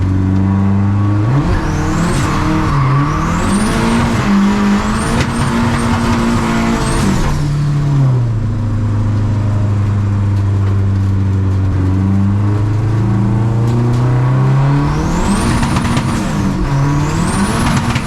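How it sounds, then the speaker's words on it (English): A modified Volvo drifting, its loud engine revving hard, rising and falling in pitch, while thin high tire squeals come and go over the roar. "I'm gonna drift this car, I guess."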